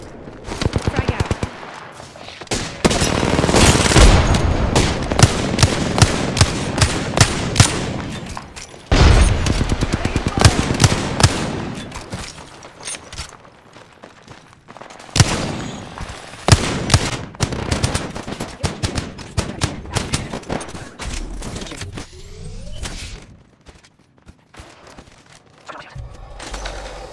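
Dense, loud gunfire from the Apex Legends video game: rapid automatic bursts and single shots close up, in repeated volleys with short pauses, while in-game voices call out over the shooting.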